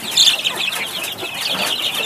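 Pushkin chickens cluck and chatter in a steady, busy flock, with high-pitched calls overlapping throughout and no clear break.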